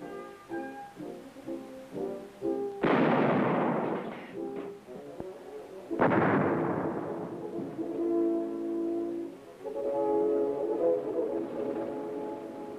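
Artillery at a military training exercise fires two loud, booming blasts a few seconds apart, each decaying into a long rumbling tail over a background of music.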